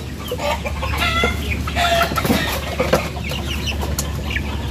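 Rhode Island Red chickens on a poultry farm clucking close by, several overlapping calls and short squawks over a constant low hum, with no speech.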